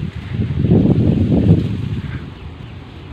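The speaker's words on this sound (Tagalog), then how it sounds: "Sobrang lakas ng hangin" Strong wind buffets the microphone in a loud, rough roar that swells and eases, with a faint whoosh like water underneath.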